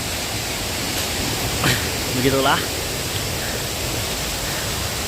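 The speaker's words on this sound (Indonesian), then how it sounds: "sungguh luar biasa air terjun ini ya, karena 7 tingkat teman-teman." The seven-tiered Moramo waterfall gives a constant broad rushing hiss, while a person speaks briefly over it.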